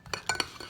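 A utensil stirs a soap slime mixture of flour and shaving foam in a bowl, giving a few quick scraping clinks close by, with no talk.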